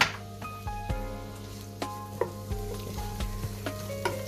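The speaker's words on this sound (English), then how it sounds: "I expected a bit more sizzle there" Sliced onions sizzling in vegetable oil for an Asian stir fry, a close, even frying hiss with a few sharp pops and spits and faint clicks of a pan and stirring, no voices.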